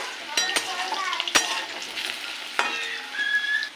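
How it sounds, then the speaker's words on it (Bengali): Potatoes frying in a pan until reddened, for a banana-flower kofta curry, with a continuous close sizzle broken by a few sharp clinks and knocks of a utensil against the pan, and no talking. "আলুটাকে ভেজে নেব লাল করে"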